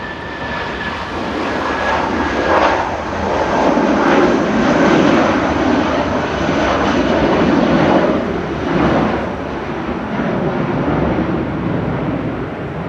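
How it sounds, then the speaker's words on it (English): Departing Manchester Airport for Oslo, an SAS jet lets out a strong, steady engine roar with a faint whine, swelling through the middle and easing off toward the end, with no voices. "SAS heading back to Oslo. Flight 4610"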